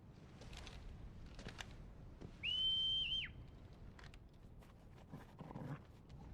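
A single sustained whistle sounds for about a second in the Final Fantasy XVI video game, rising and then bending down at the end, over faint background ambience and clicks.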